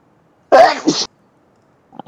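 A single sharp sneeze, close and sudden, followed by silence and then the faint start of someone speaking.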